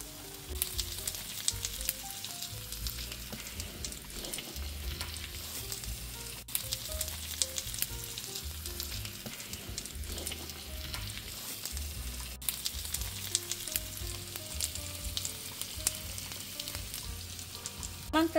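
Skewers frying in a little oil give a steady, loud, close sizzle with bright crackling spatters that runs unbroken throughout, with no voices.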